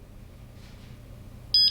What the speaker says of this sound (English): It's going to beep.